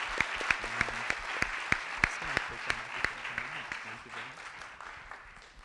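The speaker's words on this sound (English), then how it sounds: "Get them a nice round of applause." Audience at an infrastructure ideas event applauds a panel, with sharp, evenly spaced claps standing out over a softer crowd patter while someone talks through it.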